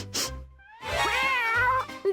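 A cat meows clearly nearby, a short call followed by a longer drawn-out meow, loud and alone with no talk over it.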